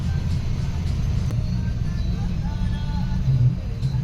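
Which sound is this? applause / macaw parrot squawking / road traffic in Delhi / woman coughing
road traffic in Delhi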